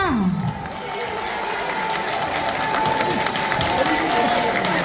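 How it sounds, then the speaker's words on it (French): A live audience at a show applauds steadily, mid-level clapping with some crowd noise and brief voices mixed in throughout. "On applaudit si c'est le cas"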